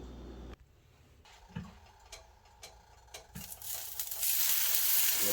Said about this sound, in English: That's what we want, is that sear sound.